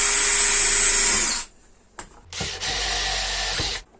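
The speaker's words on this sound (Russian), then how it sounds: "Теперь беру заглушку полтинник и уже короночкой 33 диаметра делаю также" A 33 mm hole saw drills through a plastic plug, a steady high whine of the power tool running alone for over a second, cutting out, then a brief blip and a second sustained run before it stops.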